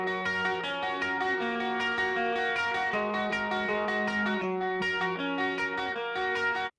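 Bright, layered electric guitars from a song play sustained chords with shimmering effects, loud and continuous, cutting off abruptly at the end.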